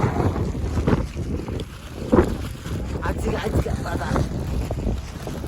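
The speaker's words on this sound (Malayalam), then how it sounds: "ഇങ്ങനെ കാറ്റ് അടിച്ച് കയറുക, കോടയും കാറ്റും." Strong wind gusting across a misty hilltop on a trek, roaring and buffeting the microphone in uneven surges, with faint voices partly buried beneath it.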